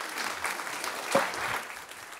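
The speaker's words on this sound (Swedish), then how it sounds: "Nu får ni er aviserade rejäla applåd" Audience applause at a panel discussion on digitalisation and regional cooperation, a soft, steady wash of clapping from a seated crowd with a brief louder swell midway, heard at a moderate distance.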